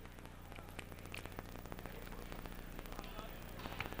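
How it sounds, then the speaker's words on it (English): Steady rain patters over an outdoor girls' varsity high school soccer match in Vermont, a constant soft hiss with faint crowd and field sounds beneath, fairly quiet throughout. "Yeah, it's raining."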